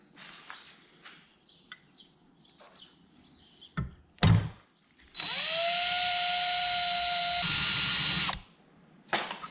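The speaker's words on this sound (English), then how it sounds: "so I got a hole drilled for the bung" A power drill bores a hole in a car's exhaust collector for a wideband oxygen sensor bung: a loud, steady whine runs about three seconds, preceded by scattered clanks and knocks, with no talking.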